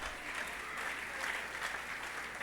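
Steady applause from a church congregation at a worship service, continuous and dense throughout, heard from within the crowd without any speech over it.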